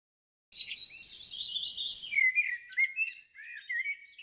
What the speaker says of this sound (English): birds chirping, forest sounds?